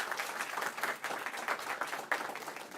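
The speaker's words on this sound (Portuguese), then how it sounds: "Nós solicitamos uma salva de palmas à nossa ilustre palestrante." An audience gives a brief round of applause for a lecturer, a professor, at an El Niño workshop lecture; dense, steady clapping at moderate level with no talking.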